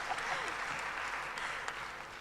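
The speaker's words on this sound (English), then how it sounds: "Please applaud." Audience at a technology and innovation forum session applauding, a brief burst of steady clapping from many hands in a hall.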